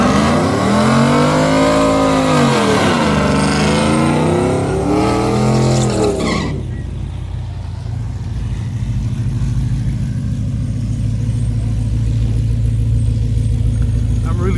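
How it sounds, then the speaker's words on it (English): Drag race cars launching, one a red Corvette, with loud roaring engines rising in pitch through the gears before dropping off to a steadier distant rumble and background crowd noise. "We got Mike on the left lane, and we got the old gentleman on the red Corvette on the left"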